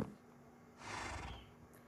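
A horse in the Minecraft video game gives a short breathy neigh, a single faint whinny rising briefly from a quiet background.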